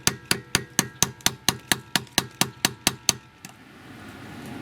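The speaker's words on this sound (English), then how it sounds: "Shove this big screwdriver in there" A big screwdriver is struck about a dozen times in a steady rhythm to pry stuck aluminum caps off Jaguar lug nuts, crisp close metallic hits followed by a faint rustling pause.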